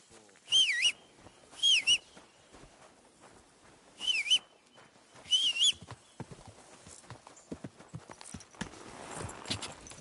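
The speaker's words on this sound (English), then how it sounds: "Stop that whistling. You're behaving like a child. What are you whistling for?" A character whistles in Kingdom Come: Deliverance 2, four short bright melodic phrases spaced across the first six seconds, followed by quieter clopping and ambient game sounds.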